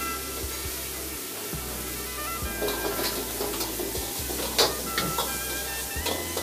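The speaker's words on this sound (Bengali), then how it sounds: "এবারে ভাজা মাছগুলো এর মধ্যে দেওয়া হবে।" Fried fish pieces go into a pan of sauce thinned with stock and are stirred, giving a steady close sizzle and hiss broken by the scrape and knock of a spoon moving through the pan.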